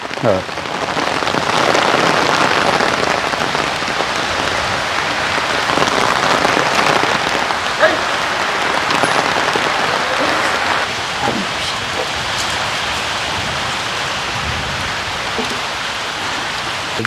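Steady rain pours down in a forest elephant camp, a dense, continuous hiss of drops on surfaces lasting throughout with no break.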